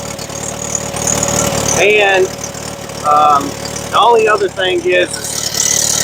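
A Bobcat skid steer engine idles just above idle with a steady low drone while someone talks over it in bursts; the motor stays constant and close, partly masked by the speech.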